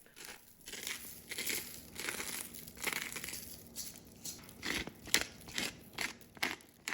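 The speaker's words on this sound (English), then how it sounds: "don't forget to wrap your garlic bulbs up in some tin foil" Tin foil crumples and crinkles as it is wrapped around garlic bulbs, a close series of irregular crackling bursts with no talk.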